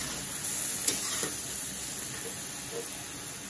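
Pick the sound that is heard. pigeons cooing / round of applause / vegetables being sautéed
vegetables being sautéed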